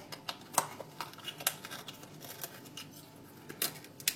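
An oyster being opened with a knife, giving a series of small, sharp clicks and scrapes at an uneven rhythm, close and fairly quiet, with no talking.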